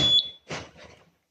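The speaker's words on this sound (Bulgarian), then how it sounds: "когато поставя зумерче, виждам, че такъв сигнал все пак идва" Small electronic buzzer fitted to a wired module shrieks in short bursts: one sharp high tone, a pause, then two fainter chirps, close and loud in a quiet room.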